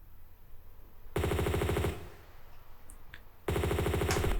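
M16 rifle fire in the Tomb Raider 2 Golden Mask remastered, two loud rapid automatic bursts of close shots, each lasting under a second, separated by a quieter stretch.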